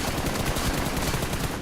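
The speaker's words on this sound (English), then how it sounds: "A lot of gunfire happening." Dense, rapid gunfire rattles continuously in a PUBG Mobile tournament match, overlapping bursts of automatic shots packed tightly together and loud throughout, with no talking.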